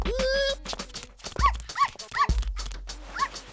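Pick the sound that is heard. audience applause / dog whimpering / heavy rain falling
dog whimpering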